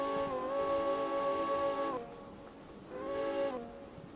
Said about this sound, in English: We'll blow our whistle.